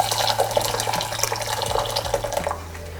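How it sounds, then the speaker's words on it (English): Water pours steadily into a saucepan over rice and a little salt, a continuous close splashing stream that eases off near the end, with no talking. "and then I'm gonna pour the water over"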